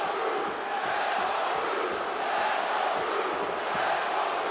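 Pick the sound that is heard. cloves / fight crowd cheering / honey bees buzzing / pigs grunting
fight crowd cheering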